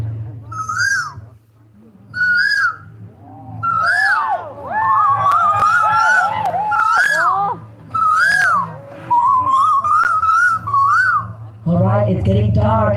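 A human voice mimics a cuckoo, repeating clear two-note whistled calls in a rhythmic series, with fluttering warbles and a low steady hum underneath, at a Christmas night gathering in Arunachal.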